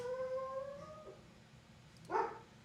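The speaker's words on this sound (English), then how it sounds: "hey guys, stop that barking." A dog gives a drawn-out whining howl that slides downward, then lets out a short sharp yip after a brief pause, fairly close over a quiet background hum.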